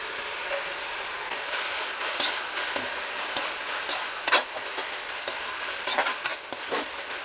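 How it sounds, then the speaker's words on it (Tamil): Mint and coriander leaves are stirred and fried in onion paste for chicken biryani, a steady soft sizzle broken by scattered clinks and scrapes of a spoon against the pan, with no talking. "அந்த வெங்காய பேஸ்ட் வந்து நல்லா வதங்கிடுச்சு"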